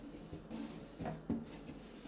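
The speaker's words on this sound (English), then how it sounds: "it's really easy to just slide them in on top" Dresser drawers on a five-drawer WLIVE bedroom dresser slide into place with a few quiet wooden knocks and scrapes, faint and close, with no talking.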